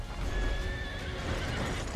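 A horse in the video game Stranger of Paradise: Final Fantasy Origin lets out a loud, drawn-out whinny over a rumbling game backdrop, with hooves faintly clopping underneath.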